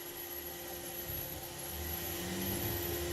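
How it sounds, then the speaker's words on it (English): A high-powered hair dryer runs steadily at close range, giving a continuous whooshing roar with a constant whine that grows slightly louder toward the end, and no voices over it. "What is this thing called? Hair dryer."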